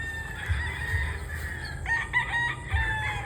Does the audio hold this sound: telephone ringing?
no